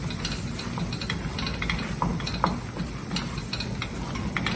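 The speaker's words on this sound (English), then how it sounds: "Stir quickly. It should not become lumpy" Mac and cheese sauce stirred quickly in a pan, with soft scraping and faint clicking strokes against the pan under a steady low hiss, close and quiet, no voice.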